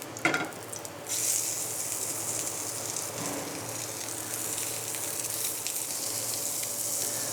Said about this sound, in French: Je vais terminer mes langoustines. Donc on met un peu d'huile. Bien chaud.